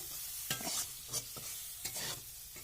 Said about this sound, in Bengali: আমি ভালো করে আলুটাকে নেড়ে চেড়ে একটু হালকা টান আলুটাকে টান টেনে নিচ্ছি